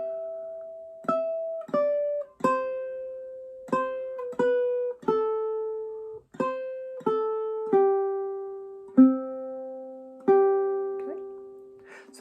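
Clawhammer-style ukulele picking the Wildwood Flower melody, each note struck with the nail side of the index finger, in a clear steady run of plucked notes with ringing decays, close and solo.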